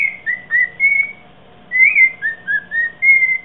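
A cockatiel whistles a series of short, sliding clear notes in two phrases separated by a brief pause, close and loud with no other sounds.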